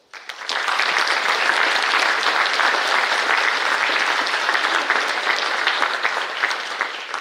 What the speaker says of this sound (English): I think they have earned a round of applause